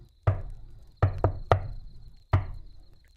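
Knocks on a wooden shed door during a night storm, five sharp raps in an uneven pattern, the middle two close together, close and clear against a faint steady hum.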